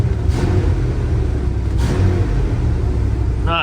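A Chevy plow truck engine revs steadily, a loud low rumble sustained throughout with brief throttle swells, and a short higher whine near the end.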